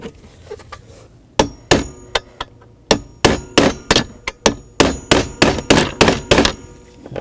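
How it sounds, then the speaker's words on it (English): A hammer strikes metal parts while an armrest cover is replaced on a 2002-06 Chevy Avalanche, giving a run of sharp, loud clanging blows, sparse at first and then coming in a quick, steady rhythm. "Make sure all that stuff's lined up while you're hitting that with the hammer."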